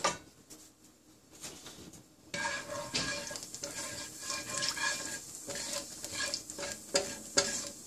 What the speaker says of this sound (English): Just stir this until it gets spluttered.